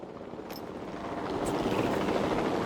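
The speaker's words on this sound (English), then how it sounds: "We have a helicopter standing by," A helicopter from Jurassic World Evolution 2 thumps with rotor chop that grows louder as it draws nearer, a dense continuous whir with no voices.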